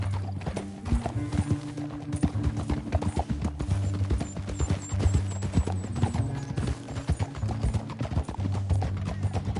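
A horse gallops hard in Red Dead Redemption 2, a dense, fast, continuous drumming of hooves close up, mixed over a low music drone, with no pause across the stretch.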